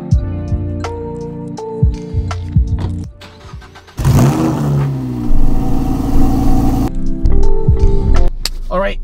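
Inside a car heading to a park on a rainy day, the engine runs and revs in bursts alongside thumps and clatter from the cabin, while a person talks over it.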